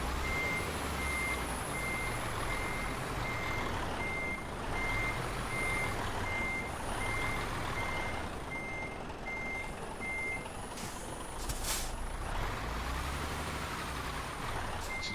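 Repeated electronic reversing beeps from a truck in Euro Truck Simulator 2, a steady string of evenly spaced pulses over a continuous engine rumble, with an air brake hiss near the end.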